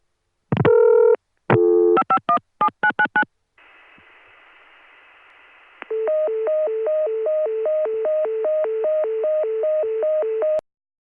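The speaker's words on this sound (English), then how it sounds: "you'll hear carrier noise come on right away, and then a pause while the Connecticut Tandem is dialing into the PBX, which again will give us the intercept tone" A 1980 CCSA private-line telephone call routed through a Connecticut tandem into a PBX: loud dialing tone bursts up front, then a steady hiss of carrier noise, then a repeating two-pitch intercept tone pulsing evenly until it cuts off.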